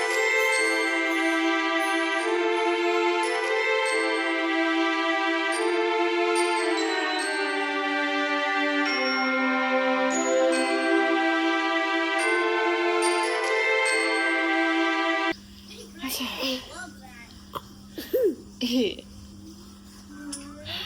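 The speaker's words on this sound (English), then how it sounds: "Arya's watching Daniel Tiger on YouTube." The children's show Daniel Tiger plays on YouTube in the background: a bright, tinkling musical tune with sustained melodic notes runs steadily, then cuts off as someone talks close by.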